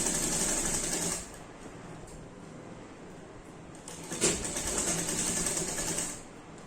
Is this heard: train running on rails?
no